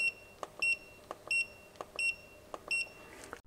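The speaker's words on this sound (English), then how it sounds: "the tester starts beeping" A high electronic beep from a PAN Allrounder 200AD current/voltage tester in non-contact voltage mode, repeating steadily, short paired chirps recurring every half second or so, fairly quiet with faint background noise.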